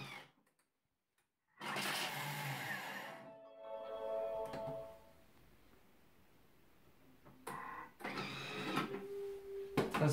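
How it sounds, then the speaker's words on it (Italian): A Thermomix grinds parmesan cheese at speed 10: a loud, dense whirring burst of about two seconds, then a quieter rattling spin-down. A softer mechanical sound follows, and a second loud burst starts near the end. "Iniziamo la ricetta mettendo all'interno del boccale il parmigiano e lo facciamo tritare per 10 secondi a"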